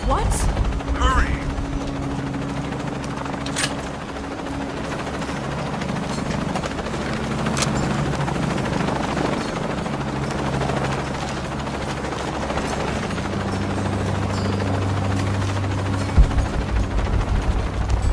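Helicopter in the video game Shadow of the Tomb Raider, a steady low rotor drone running throughout at moderate loudness, layered with game effects and brief sharp impacts.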